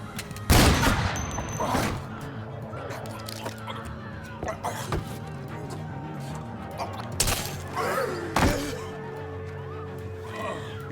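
Gunfire in The Walking Dead Season 3 video game: a loud burst of shots near the start, then scattered sharp cracks and thuds, with two more strong reports near the end over a low game background.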